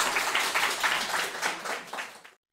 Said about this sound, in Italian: lo vogliamo fare un bel applauso alle vostre due maestre?